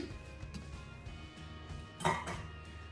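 Knife blade scraping and clinking through leek-filled Albanian-style börek pastry in a metal baking tray before baking, a few soft scrapes then a sharper metallic clink near the end, close and fairly quiet.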